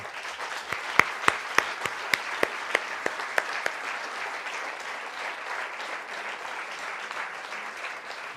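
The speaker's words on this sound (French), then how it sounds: "je serais très heureux si nous leur rendions un hommage appuyé ce soir, grâce à vos applaudissements chaleureux" Warm audience applause at an evening ceremony honouring people, opening with several sharp, distinct claps before settling into a softer, even wash of clapping.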